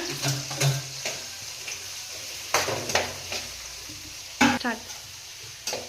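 Coarsely crushed, peeled onions and garlic fry in a pan for a vegetable curry of okra, brinjal and tomato, giving a steady close sizzle with several sharp scraping stirs at irregular intervals.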